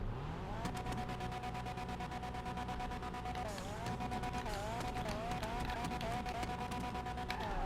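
An Annis Hardy car engine in GTA Online runs through a sound test. A steady idle with rhythmic pulsing gives way to several quick revs that rise and fall, heard alone and fairly close.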